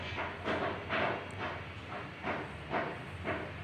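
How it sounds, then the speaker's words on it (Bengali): Water boiling under a steamer of vegetable momo dumplings, giving a faint steady hiss of steam that swells in soft regular pulses roughly every half second. "নিচে গরম গরম পানি যে ফুটছে দেখা যাচ্ছে"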